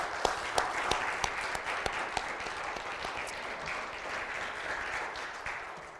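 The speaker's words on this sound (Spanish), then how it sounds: "Démosle un buen aplauso a Jesús." Congregation applauding during a Christmas church service, a steady wash of many hands clapping for several seconds with sharp individual claps standing out, fairly distant and even throughout.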